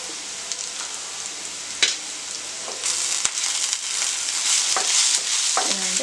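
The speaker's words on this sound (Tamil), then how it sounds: "இதை வந்து கலக்கி விட்டுருங்க." Quail masala with onions and Kashmiri chilli powder frying in a kadai, a steady close sizzle with a few scraping stirs and clinks of the spoon against the pan, no talking.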